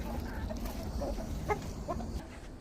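Backyard chickens let out on a warm, muddy day in Ohio cluck softly outdoors, a few short calls rising over low ambient noise, with no voices.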